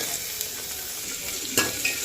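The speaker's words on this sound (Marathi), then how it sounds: "बघू शकतो कांदा आता तळायला." Onion fries in a pan with garlic, making a steady close sizzle and crackle throughout, plus a brief louder stirring scrape near the end.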